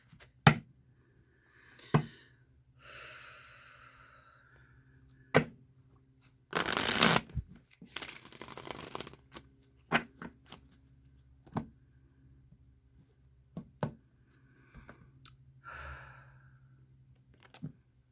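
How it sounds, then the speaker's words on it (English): A tarot deck is shuffled by hand in a quiet room, with sharp riffling bursts and a longer rapid flutter of cards, plus soft handling and breathing between. "One more shuffle, then I'll cut the deck."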